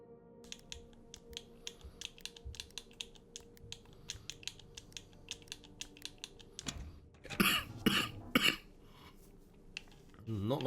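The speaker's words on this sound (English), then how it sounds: "Not liking this cough." A short burst of coughing in a quiet room, a few loud harsh coughs bunched together near the end, after a long stretch of light keyboard typing.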